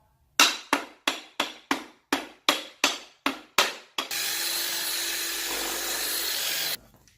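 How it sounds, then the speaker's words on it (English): Ten sharp, evenly spaced hammer blows strike in a steady rhythm, followed by a few seconds of continuous loud noise like a power tool running. "Hammer it on again"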